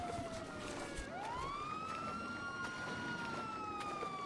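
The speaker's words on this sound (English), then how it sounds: "the sirens are still going" A police car siren wails in the GTA V NoPixel role-play game, its pitch sweeping up and holding a long steady tone over a noisy rumbling background, fairly close and continuous.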